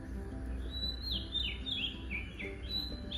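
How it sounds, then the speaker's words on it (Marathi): Several birds chirp in quick, repeated high notes from a tree in the morning, against a steady low background hum, fairly close and continuous throughout. "म्हणजे या झाडावरसून असे असे पक्ष्यांचे आवाज येतात ना"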